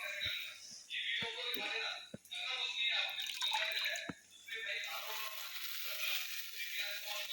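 Water poured into a cooking pan of frying masala, a close hissing sizzle with splashy pouring and a few sharp metallic clicks, with a voice speaking over it.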